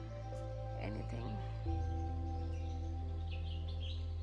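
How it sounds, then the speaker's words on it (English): Birds chirping outdoors in Chikmagalur, a few faint, quick high chirps near the end over a steady low hum, following a brief stretch of talk. "Can you hear those bird sounds?"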